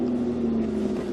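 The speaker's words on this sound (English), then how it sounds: "So let's go ahead and start the engine." A car engine starts on a cold 5°F day and settles into a steady, loud, continuous drone with no voices over it.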